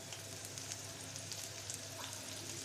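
A bay leaf and chopped garlic sizzle in hot oil, a steady, fairly faint frying hiss with a few small pops and no talk.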